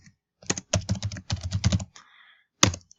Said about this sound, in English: If you'll go to Google and type in Khan Academy